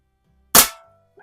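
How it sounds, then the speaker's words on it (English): A single sharp air gun shot rings out close by as the pellet strikes a metal can target, a crisp crack with a brief metallic ping trailing off, then silence. "Trying to shoot right along that line of the can there."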